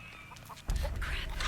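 A chicken clucks in short, rapid bursts in The Texas Chainsaw Massacre video game against a low rumbling background, fairly close and moderately loud.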